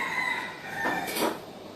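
Early-morning rooster crowing, one drawn-out call with a strained, rising middle, heard alone and somewhat distant.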